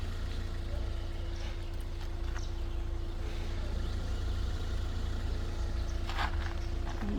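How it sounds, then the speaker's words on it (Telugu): A 2015 Hyundai i20 diesel car idles with a steady, even low hum and a faint constant tone, running unchanged throughout with light background noise. "బండి ఆల్రెడీ స్టార్ట్లోనే ఉన్నది బండి ఎక్కడ ఎలాంటి నాయిస్ అయితే లేదు"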